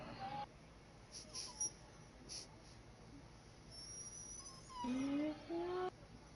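A puppy whimpering in a few thin, high, drawn-out whines, faint and close, over low background hiss with a short burst near the end.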